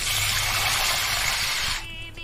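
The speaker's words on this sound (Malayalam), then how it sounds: "അണ്ടിപ്പരിപ്പ് മൂത്തതിന് ശേഷം അതിലേക്ക് വെള്ളം ഒഴിച്ചു കൊടുക്കാം" Water is poured into a hot pan of fried cashews, giving a steady, close rushing hiss for nearly two seconds before it abruptly thins to a quieter simmer.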